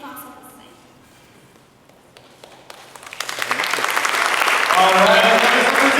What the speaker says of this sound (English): applaudissez bien fort, mesdames et messieurs.